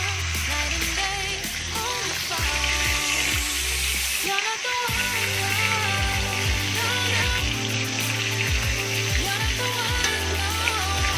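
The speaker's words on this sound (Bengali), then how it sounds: "মাছগুলো একে একে ভেজে নিচ্ছি।" Tilapia rubbed with salt and turmeric fry in hot oil for a Bengali fish curry, a steady loud sizzle and crackle running continuously with some clinking underneath.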